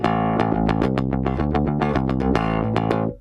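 An electric bass through a Trondheim Audio Devices SkarBassOne preamp pedal plays a quick run of plucked notes with a thick, slightly driven, compressed tone, each attack distinct and punchy, loud and alone.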